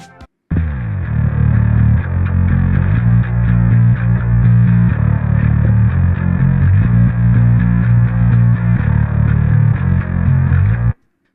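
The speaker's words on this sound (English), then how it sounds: "And so the bass with the two channels together sound like this." Rock bass guitar playing with a sub channel and a chorused treble channel blended together, loud, thick and distorted, sustained riff with steady low-end throb for about ten seconds, no talking.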